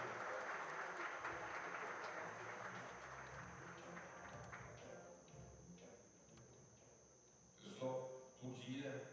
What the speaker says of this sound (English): A round of applause for the mayor.